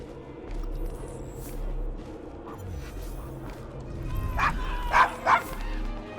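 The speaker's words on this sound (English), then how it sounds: "Is your dog quite all right?" Dog barking in the Devil's Acre, a rough district of Victorian London in Assassin's Creed Syndicate, with a few sharp barks and whimpers toward the end over a busy street ambience, with speech mixed in.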